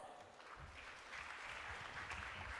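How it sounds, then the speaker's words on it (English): Audience applause at a national mental health seminar, a soft, fairly distant patter of clapping that swells slightly as it goes on, with no speech heard. "with a round of applause"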